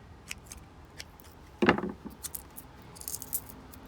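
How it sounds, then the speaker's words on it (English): Scissors snipping succulent roots during repotting, a few faint, close metallic clicks and one louder crisp snip, with quiet handling rattles in between. "Just give these roots a little trim."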